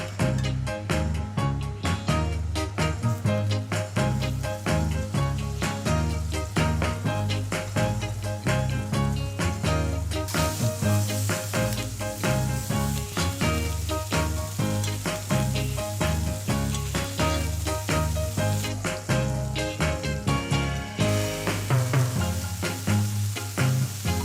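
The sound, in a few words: meat searing in butter in a very hot pan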